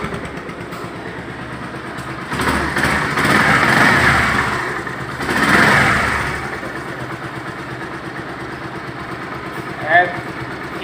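A Bajaj Pulsar 150cc motorcycle, 2022 model, idling close by with a steady low engine drone that swells briefly twice as it is revved. A voice talks over part of it.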